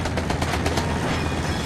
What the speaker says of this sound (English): luckily this train comes pre-stocked for the fully loaded, fully loaded, infinite magazine flak cannon.